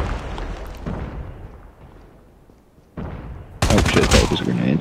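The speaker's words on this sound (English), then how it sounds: "that was a grenade" Video game combat with a rumbling grenade blast followed by a sudden, loud burst of dense gunfire at the end, with quieter game noise before it.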